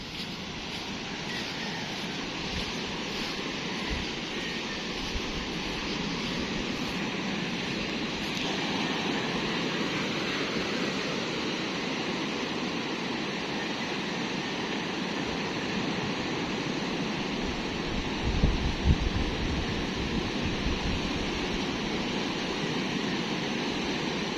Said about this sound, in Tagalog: Talaga namang lalaki ng alon mga Kacharito natin diya.